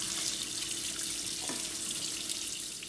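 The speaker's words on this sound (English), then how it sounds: "Now you put the water on" Water runs steadily from a kitchen tap into a sink during handwashing, a constant close hiss that carries on alone for the whole stretch.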